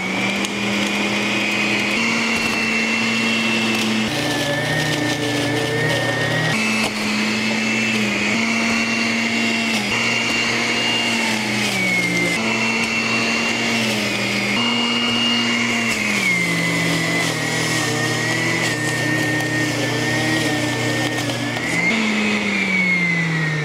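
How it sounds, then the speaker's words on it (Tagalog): An electric juice extractor grinding carrots, cucumber and apple, a loud continuous motor whine that dips and rises in pitch repeatedly as pieces are pushed through, with no talk. "So ato nang testingan ni ato ang bagong napalit na juice extractor."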